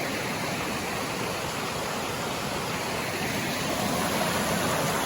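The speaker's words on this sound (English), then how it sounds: "here's the rapids we've been hearing" Rushing river rapids and waterfalls on the Appalachian Trail roar in a constant, dense wash of noise, loud and close with no voices.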